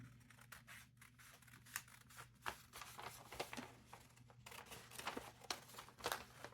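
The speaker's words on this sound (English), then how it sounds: "And now I'm just going to take my large scissors." Large scissors snipping through upcycled Amazon packaging paper, quiet repeated crunchy cuts with paper crinkling and rustling, close by over a low steady hum.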